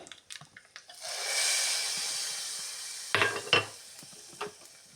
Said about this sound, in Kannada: ಒಗ್ಗರಣೆ ಹಾಕಿಬಿಡೋಣ.